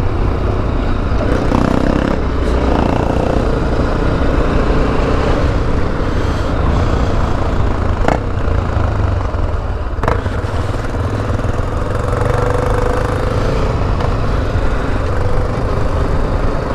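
A Honda NX4 Falcon motorcycle engine runs continuously and loudly while riding, a dense steady roar with occasional sharp cracks and pops from the exhaust, no voices heard.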